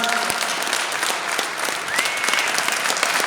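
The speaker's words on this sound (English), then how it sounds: "let's get a round of applause for Dan" An audience at a Q&A with UFC legend Dan Severn breaks into steady, dense applause that fills the room for several seconds, with faint voices underneath.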